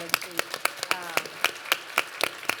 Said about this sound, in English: She deserves a huge round of applause.